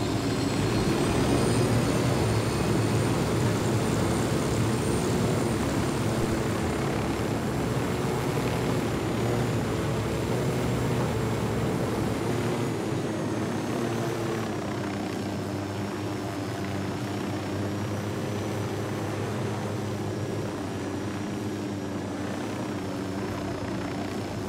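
Aircraft engine drone from a helicopter-like vehicle in the Ghost Recon Wildlands video game, a steady loud rotor and engine hum that holds throughout with no talk.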